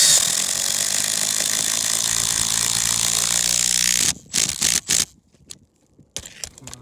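A power driver turns a stainless steel lag screw with an EPDM washer through solar flashing into a roof deck, a loud continuous whirring grind that ends in short stuttering bursts and then stops.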